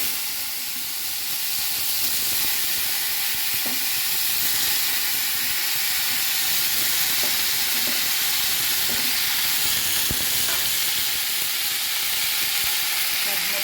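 A pan of sour stew made with ripe jujubes keeps a steady broadband sizzle and hiss as tomatoes go in, with a few faint stirring clicks scattered over the continuous frying noise.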